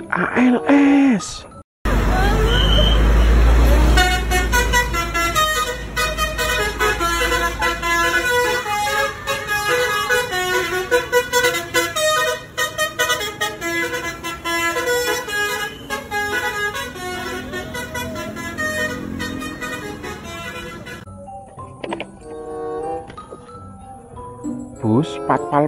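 An ALS bus passes close by, its loud horn playing a long, musical multi-tone call over heavy engine rumble for more than twenty seconds, with a brief louder blast at the start and the engine noise fading at the end.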